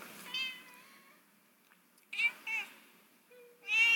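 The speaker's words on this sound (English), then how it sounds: "Cat. I have 2 cats." A pet cat meows several times, short, close, high-pitched calls separated by pauses, with a longer meow at the end and no talking over it.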